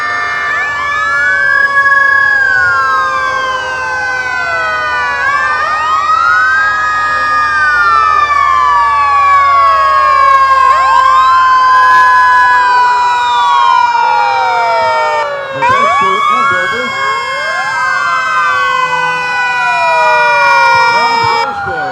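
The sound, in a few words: Wellsville fire truck siren in a parade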